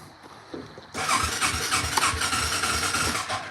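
An old ATV engine cranks briefly, then catches and fires up with throttle. It runs rough and loud with an uneven, revving sputter.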